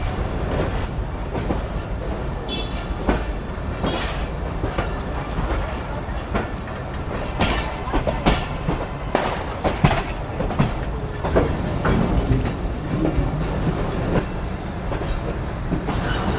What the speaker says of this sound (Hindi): फाइनली ट्रेन हमारी अप्रोच बना रही है रोडी जंक्शन रेलवे स्टेशन पर